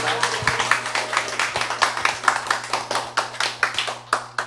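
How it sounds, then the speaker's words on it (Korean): A small group claps steadily, the individual hand claps distinct and close, continuing for several seconds. "박수로 열어주시도록 합니다."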